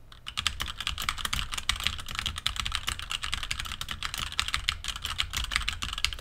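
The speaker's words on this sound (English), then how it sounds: "let's go ahead and bang around on the keyboard in this situation and see what this sounds like" Rapid, steady typing on a computer keyboard, with dense clicking keystrokes close by and no voices, recorded through a HyperX QuadCast USB microphone.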